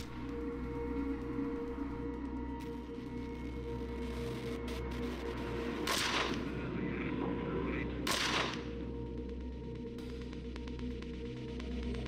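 Gunfire erupts in turn-based combat in the Wasteland 2 video game, with two sharp bursts standing out over a steady droning background bed of game sound and music.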